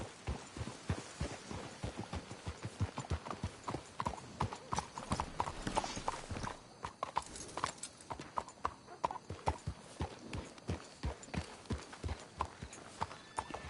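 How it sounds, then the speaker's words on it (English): Horses' hooves clip-clopping in Red Dead Redemption 2: a steady, close, rhythmic patter of many sharp hoof strikes at a walking-to-trotting pace continuing throughout, with a faint whinny and no speech. "Let's hitch the horses up ahead."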